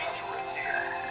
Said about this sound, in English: why do I hear so much croaking?